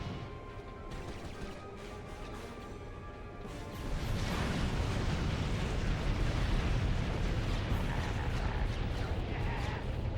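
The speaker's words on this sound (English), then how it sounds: "Okay then, it just exploded" A loud explosion in Ratchet & Clank: Going Commando, where a sudden burst around four seconds in swells into a sustained, roaring rumble that fills the rest of the clip over earlier steady game noise.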